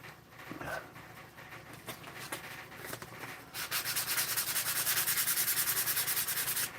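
Sandpaper rubbed by hand over a workpiece in steady back-and-forth strokes, loud and close, growing denser and brighter after a few seconds of lighter scrubbing.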